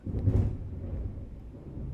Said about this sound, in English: Oh, you might hear some thunder outside.